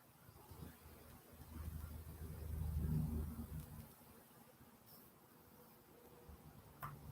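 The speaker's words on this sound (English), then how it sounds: "the sounds of the trucks are relaxing" Trucks pass by outside, heard as a faint, distant low rumble that swells to a peak midway and then fades away.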